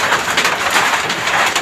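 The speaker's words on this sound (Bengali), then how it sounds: "প্রচন্ড শিল পড়তেছে।" Heavy hail pours down in a dense, steady roar of small hard impacts, loud and close with no pauses.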